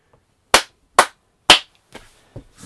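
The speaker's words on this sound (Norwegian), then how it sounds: "Da klapper jeg." Three sharp, loud hand claps spaced about half a second apart, followed by a few softer, scattered claps or taps trailing off; no talking.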